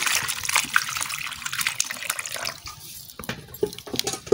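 Water being poured in small splashes and trickles, close by, uneven and intermittent, with a few faint background noises.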